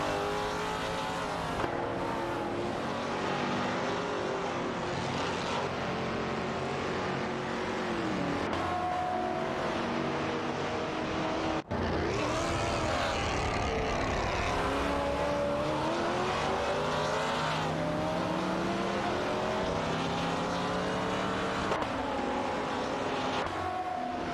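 In an AI-driven racing video game, race cars including an Oldsmobile 442 and a BMW compete on track. Engines rev and whine in rising and falling sweeps, overlapping continuously at steady volume with occasional cars passing.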